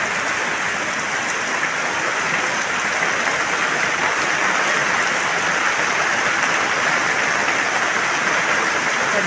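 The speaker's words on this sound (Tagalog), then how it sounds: "buhos po ng husto ang ulan." Heavy rain pours down in a steady, dense roar with no letup, close and loud throughout, with no voices over it.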